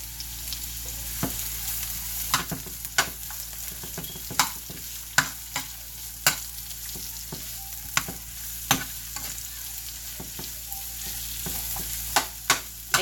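Vegetables fry in a heated pan with a constant close sizzle, while a utensil stirs and scrapes the pan in irregular clicks throughout.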